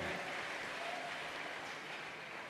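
Steady applause from a church congregation praising the Lord during a preaching service, a continuous even wash of clapping at moderate distance with no gaps.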